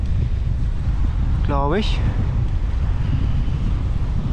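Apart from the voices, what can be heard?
wind blowing on a dike while cycling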